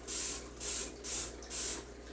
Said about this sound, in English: I like to cover the whole pan with it.